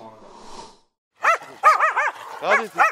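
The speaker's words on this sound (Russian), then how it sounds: "Некоторые бродячие собаки, вроде этой, содержатся в приюте" A stray dog in Tbilisi barks in a quick series of sharp, close barks after a brief murmur of background noise, with a short pause before the first burst.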